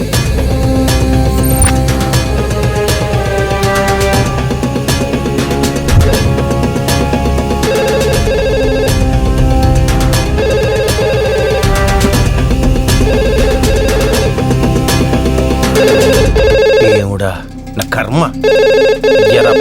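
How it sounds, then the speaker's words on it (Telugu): A telephone rings insistently over loud, dense music and background voices, the ringing continuing for most of the clip before the sound cuts off near the end. "ఎక్కడ రింగ్ అవుతుంది శబ్దం ఇక్కడి నుంచే వస్తుంది"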